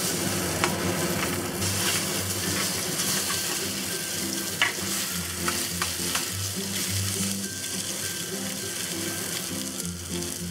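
Fish fillet pieces fry over high heat in a generous amount of oil in a pan, a loud, continuous close sizzle with occasional stirring scrapes and clinks throughout.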